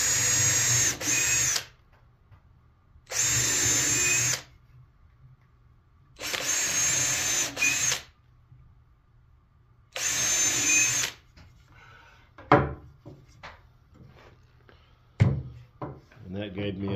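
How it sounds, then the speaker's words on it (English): A power drill whirs into cedar wood in four steady bursts of about a second each, separated by pauses, followed by scattered clicks and handling knocks close by. "And I'll drill about center or where that is right there."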